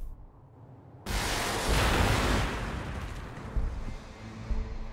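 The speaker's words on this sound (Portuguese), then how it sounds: "Agora tu vai tomar míssil." Missile fire and explosions in the strategy video game Warhammer 40k Gladius, played as the Orks, arrive as a sudden loud boom that swells into a long rumbling roar, with smaller bursts near the end and no talk.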